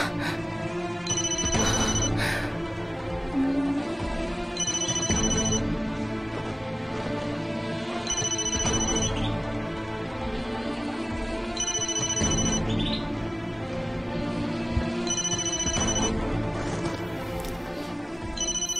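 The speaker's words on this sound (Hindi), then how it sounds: "ये तो उसी का फोन बज रहा है।" A mobile phone rings on and on with a repeating electronic ringtone melody that cycles every few seconds, playing alone at moderate volume with no talk over it.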